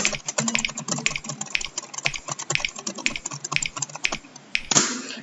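Rapid keystrokes on a computer keyboard during a typing-trainer exercise, a steady run of close, crisp clicks with a final louder tap near the end, no talking.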